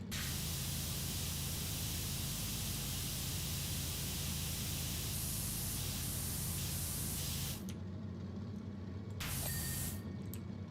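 A pressure washer sprays continuously in PowerWash Simulator as a loud, steady hissing blast that briefly drops off and cuts back in near the end.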